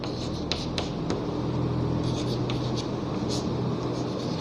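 A pen or marker scratches across a board in short strokes during a maths lesson, a soft scratchy rhythm over a steady room hum.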